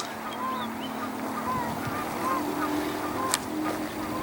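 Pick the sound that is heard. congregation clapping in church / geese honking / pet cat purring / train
geese honking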